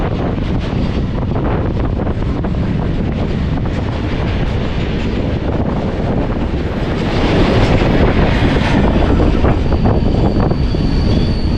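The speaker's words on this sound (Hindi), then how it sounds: "तो बेसिकली हमारी ट्रेन निकलने वाली है थोड़ी देर में।" Humsafar Express train, Bangalore to Bhubaneswar service, heard from on board as steady rumbling rail noise with wind buffeting, growing slightly louder toward the end, with no voices.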